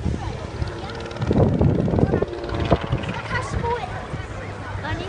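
A small propeller aeroplane flies at a British Armed Forces Day display, its engine a steady, moderately loud drone rising and falling beneath continuous commentary from a man.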